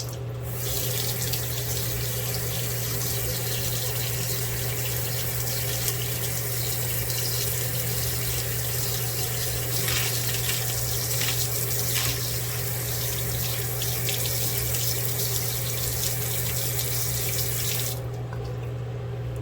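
A household faucet runs continuously at strong pressure, a steady close rushing of water that holds unbroken for most of the stretch before cutting off near the end.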